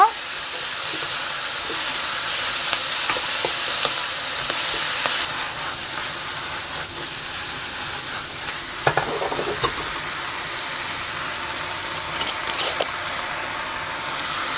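Oyster and aromatics frying over high heat for a Chinese-style oyster soup, a steady loud broadband sizzle and hiss that softens partway through, with a few clinks.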